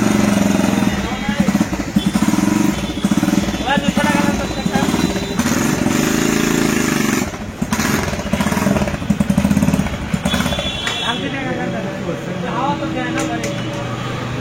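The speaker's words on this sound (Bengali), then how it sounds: "তো এখন চলুন বন্ধুরা আমরা একটা টেস্ট ড্রাইভ দিই বাইকটা।" A modified China Speeder 125cc motorcycle, converted to a cafe racer in Bangladesh, runs on a test ride, its engine buzzing and revving steadily throughout with brief dips, while a voice talks over it.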